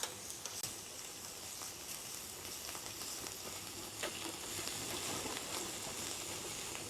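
Samgyupsal pork belly sizzles steadily as it fries, a dense crackling hiss that holds at an even level throughout with a few sharper pops, nobody speaking.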